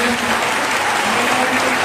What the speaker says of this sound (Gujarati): એમની માટે આપણે તાળી પાડશું